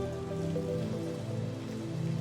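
Rain plays as a sound effect in a Unity game scene, a steady, even patter of drops hitting a surface with a faint low hum underneath, continuous and moderately loud without speech.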